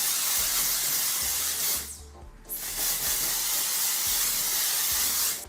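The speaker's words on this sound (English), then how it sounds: "I'm going to use this spray from Knook, which is the Brilliant Gloss Spray, and I'm going to spray a little bit of that just all around my hair." Brilliant Gloss hair spray from Knook hisses in two long, loud aerosol bursts close to the microphone, with a short pause between them as it is sprayed all around the hair.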